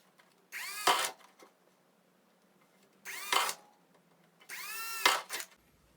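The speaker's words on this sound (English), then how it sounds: "I'm gonna use a drill and an X-Acto knife to make a little hole" Three bursts of a small power drill boring holes through a Redcat Gen8 RC car body, each whining run lasting under a second, close and clear with quiet gaps between.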